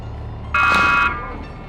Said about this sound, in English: that's a green buzzer in the first AB semifinal of the men's single sculls